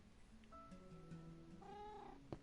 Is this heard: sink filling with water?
no